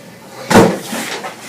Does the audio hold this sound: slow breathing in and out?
no